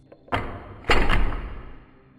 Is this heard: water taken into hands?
no